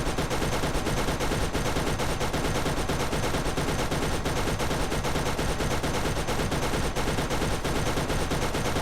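Gun firing slow-travelling bullets in the Borderlands video game, heard as dense continuous bursts of gunfire layered over game noise, loud and sustained throughout with no pauses.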